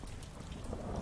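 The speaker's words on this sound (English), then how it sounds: "It's because of the rain, I think." Steady rain ambience in the video game Skyrim, a continuous hiss with a low rumble beneath, even and unbroken throughout with no talking.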